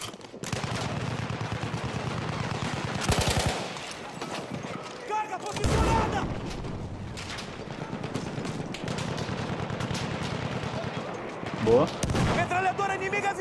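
Rapid enemy machine gun fire rattles in repeated bursts during a Battlefield 1 match, alongside louder nearby shots and in-game voices talking over the action.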